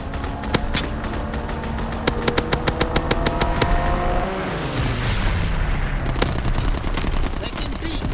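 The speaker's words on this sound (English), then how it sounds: "Strafing run inbound! Firing battery one!" Rapid gunfire bursts from a video game aircraft strafing run, then rolling booms of artillery fire, loud and close with dense battle noise throughout.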